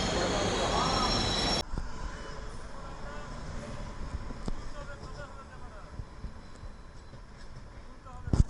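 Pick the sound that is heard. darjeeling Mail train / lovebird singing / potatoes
darjeeling Mail train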